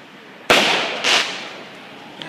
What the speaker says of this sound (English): I can't follow them fireworks like that.